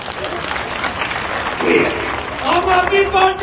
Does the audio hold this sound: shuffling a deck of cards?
no